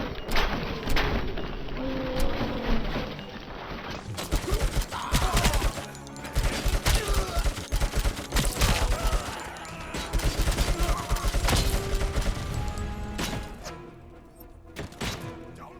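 Dense gunfire in the video game RoboCop Rogue City, rapid bursts of shots with thumps and booms running almost nonstop, loud and continuous before easing off near the end.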